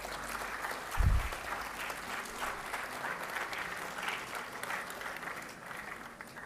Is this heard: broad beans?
no